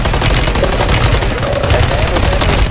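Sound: gunfire in a shooter video game

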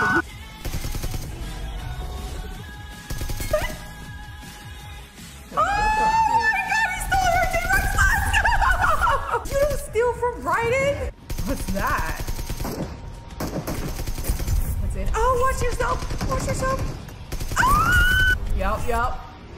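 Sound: gunfire in a video game

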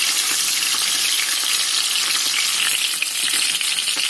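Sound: eggplants frying in hot oil

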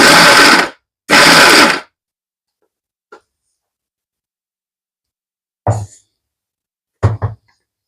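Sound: mixer grinder pulsed on and off

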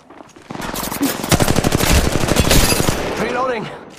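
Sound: gunfire in video game Apex Legends Mobile

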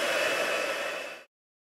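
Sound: heat gun heat-setting embossing powder

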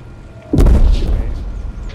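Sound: frigate gun firing at a submarine in the video game Foxhole

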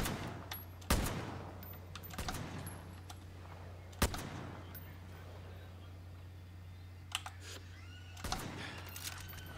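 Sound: gunshots in video game Far Cry New Dawn

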